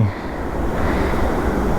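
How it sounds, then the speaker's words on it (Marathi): Steady rushing water flowing at Gadeshwar Dam near Panvel fills the clip, a broad continuous wash with wind buffeting the microphone. "तिकडून पाणी वाहत येत आहे"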